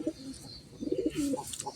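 A migratory pigeon coos nearby in a few soft, low, throaty phrases, heard alone against a quiet background.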